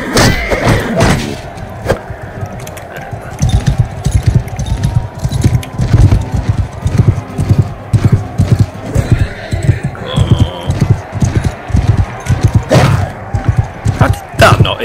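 Horse hooves galloping in the medieval combat video game Mount & Blade II: Bannerlord, a steady rapid clip-clop of thudding beats running throughout, with neighs and whinnies, battle clatter and a player's voice over it.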